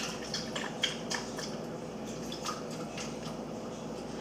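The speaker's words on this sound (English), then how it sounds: "Now I'm going to put the chicken broth on it." Chicken broth is poured over stuffed peppers in a pan, giving faint, close wet drips and splashes in an uneven patter against a quiet kitchen background.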